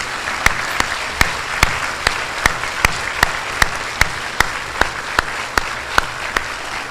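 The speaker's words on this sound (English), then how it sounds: "Please give a huge round of applause to Markel Simmons, our 2018 Adult Volunteer Award winner." An audience at the Champions of Healthcare awards event applauds a 2018 Adult Volunteer Award winner, with a dense wash of clapping punctuated by steady, rhythmic sharp claps throughout.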